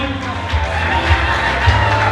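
Audience at a Faraja Secondary School graduation ceremony applauds and cheers for a student, a steady mass of clapping and crowd noise with occasional louder whoops, fairly close and continuous throughout.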